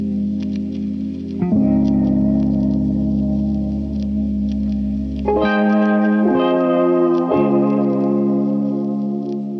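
A sustained synth-like software instrument plays a few held notes with shifting pitch, washed in heavy reverb and echo that blurs each change into the next.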